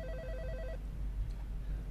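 A phone ringtone sounds briefly in a quick repeating electronic pattern, then stops abruptly, over a low background hum.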